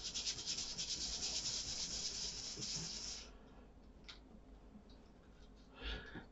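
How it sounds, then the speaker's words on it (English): Small sanding circle rubbed by hand over a fragile glued wooden part of a 1/84 scale HMS Victory model ship, a steady close scratchy rasp that softens and breaks into brief faint strokes. "now I'm just kind of going to just take one of these little sanding circles"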